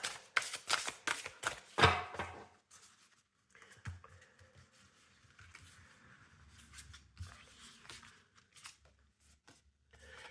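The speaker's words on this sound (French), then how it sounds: "On va aller reprendre une carte." A tarot card drawn from the deck, with a quick burst of crisp card shuffling and a sharp snap, then faint papery rustles and light handling sounds in a quiet room.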